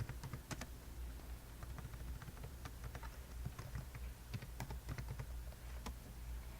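Java code is typed on a computer keyboard in the Eclipse editor as a quiet, steady stream of key clicks with irregular pauses, close up and with no speech.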